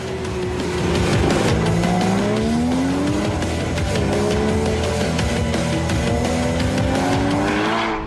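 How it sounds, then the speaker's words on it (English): Porsche Cayman GTS with stiffer mufflers and sport exhaust, a loud throaty engine note rising and falling through gear changes as the car pulls hard, continuous and close. "with stiffer mufflers and a sport exhaust for the throaty racing sound."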